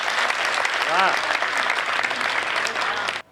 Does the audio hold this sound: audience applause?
yes